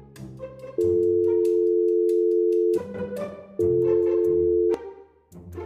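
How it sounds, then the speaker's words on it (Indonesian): A phone call tone in the Sakura School Simulator video game plays as two long, steady electronic beeps, each lasting a couple of seconds, over light game background sound. "Sekarang telepon Tian"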